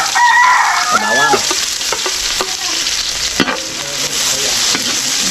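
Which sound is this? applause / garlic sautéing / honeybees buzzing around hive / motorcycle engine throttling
garlic sautéing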